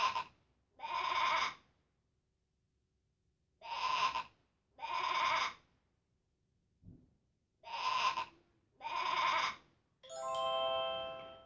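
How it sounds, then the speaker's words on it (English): Animated sheep from the Speech Blubs app bleating a repeated baa, six clear calls in evenly spaced pairs followed by a brighter chime-like tone, close and loud with silence between. "They get to see a sheep now that they've learned how to baa like a sheep."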